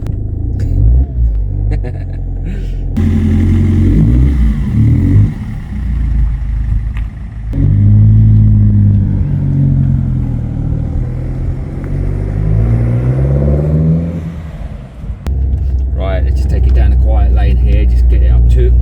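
An MG ZT's engine drives on its first run in five years, after rear suspension arm repairs: a steady road rumble with rising and falling revs as it accelerates, under someone talking.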